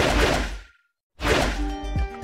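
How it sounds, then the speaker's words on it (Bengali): Two heavy punch impacts with whooshing swings, made by a fist skin in the Free Fire video game, each loud and close, separated by a brief silence, the second ending in a ringing metallic tone. "ফিস্ট স্কিনের সাউন্ড ইফেক্টও অসাধারণ।"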